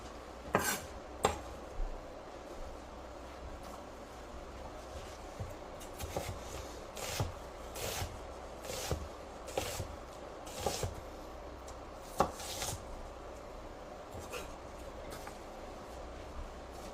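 A knife dices vegetables quickly on a cutting board for a vegan minestrone, making close, crisp taps that come in rapid rhythmic bursts with brief pauses between runs.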